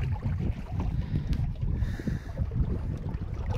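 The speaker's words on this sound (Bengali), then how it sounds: "পানির এই যে কলতানির এই শব্দটা না এত সুন্দর লাগে" Water lapping and sloshing around a wooden boat being pushed through a wetland beel, a continuous close, low gurgle with steady splashes and some wind rumble, no talk.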